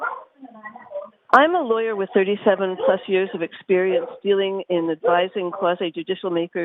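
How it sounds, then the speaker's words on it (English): A dog yips and whimpers in short repeated bursts right under someone speaking at a public hearing, the barking close and frequent throughout. "Sorry about the dog."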